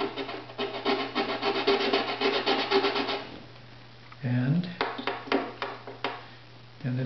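Filing a violin bridge with a special file, a steady run of short rasping strokes up close for about three seconds, then after a pause a brief hum and further scattered scraping strokes with a voice.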